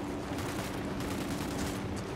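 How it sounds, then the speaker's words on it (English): Dense, continuous gunfire from a firefight in Ghost Recon Wildlands, a rapid rattling barrage that stays loud and unbroken throughout the short stretch. "I'm opening fire."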